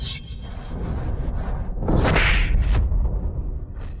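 A single sharp slap cracks out with a whooshing swing, loud and close, set in a dramatic scene amid a low, busy background rumble.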